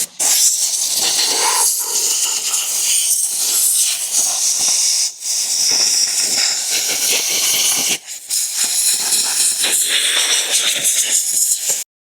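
Compressed air blasts over a Luba 3 robot mower to clean it, a loud, close, continuous hiss with brief breaks where the nozzle stops, no voices.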